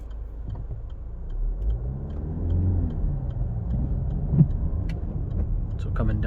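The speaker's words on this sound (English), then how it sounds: "so we're in second gear at 20 miles an hour, to third at 30, fourth at 45" A Range Rover Evoque with a manual gearbox drives along, its low engine and road rumble steady inside the cabin, swelling slightly as the revs rise and fall.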